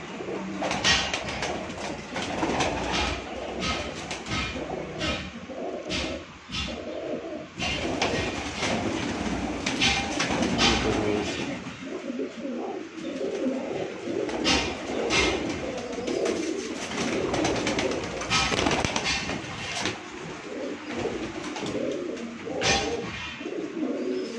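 Sialkoti pigeons cooing on a rooftop, repeated soft coos and bursts of wing flutter and scuffling close by, with steady background noise and no clear talk.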